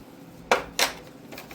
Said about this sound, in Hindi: मैं यहाँ पर एक बार इसको स्पून से मिक्स करके स्पैचुला का यूज़ करूँगी ताकि अच्छे से मिक्सिंग हो जाए।